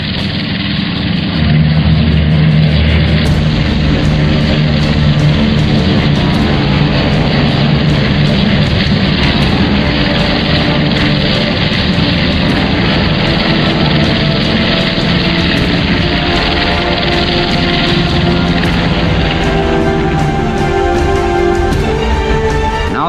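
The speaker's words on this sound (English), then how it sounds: "One by one, the tow planes lifted the heavily laden gliders into the sky." World War II tow planes pull heavily laden gliders into the sky for the D-Day invasion, a steady loud drone of propeller engines that continues unbroken throughout.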